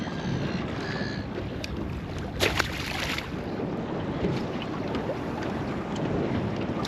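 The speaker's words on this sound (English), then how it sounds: "The wind's getting a bit annoying." Wind buffets a microphone out on a fishing boat on open water, a steady loud low rumble with occasional faint knocks and splashes, and no one speaking.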